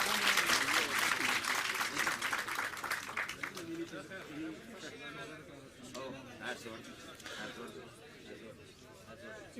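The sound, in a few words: audience applause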